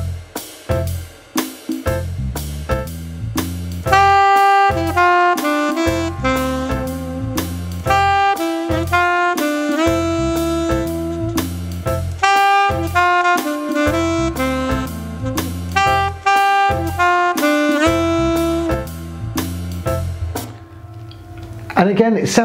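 Saxophone plays a descending thirds pattern over a backing track with bass and drums, the sax line loud and near, the groove steady under it, fading out at the end.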